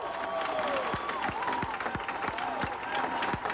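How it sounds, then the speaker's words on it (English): A high school football playoff crowd in the stands for the Gaffney Indians cheers and claps steadily while drums pound a regular beat, as the defense leaves the field. "Now listen to the Gaffney crowd as the defense comes off the field."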